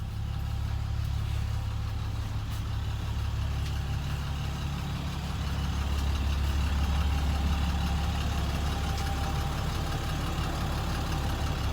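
A school bus's steady, low diesel engine idles close by, a constant rumble with no speech throughout.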